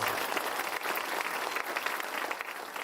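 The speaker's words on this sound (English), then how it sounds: "let's give Lisa another round of applause" Audience applause for Lisa at a community accelerator and childcare business ribbon cutting, a steady crowd of many hands clapping at moderate loudness for a few seconds, with no talk over it.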